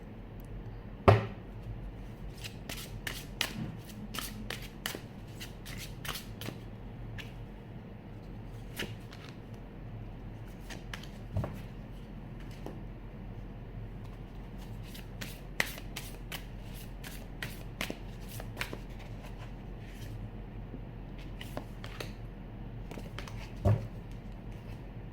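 Tarot cards are shuffled by hand in a steady run of crisp riffles and soft slaps, with a couple of sharper taps, close and alone with no talking.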